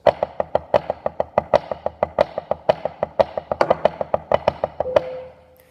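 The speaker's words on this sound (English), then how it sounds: "So if I played something with flat flams in a context, it might sound like this." Crisp doubled taps on a practice pad repeat in a steady rhythm, each stroke a quick grace note merged with the main hit, close and dry.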